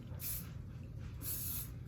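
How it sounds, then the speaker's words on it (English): Hairspray from an aerosol can sprayed onto the parting line of hair, two short hissing bursts close to the microphone, quiet, with a pause between them. "any hairspray like this will work. So what I'm gonna do is just spray right at the line"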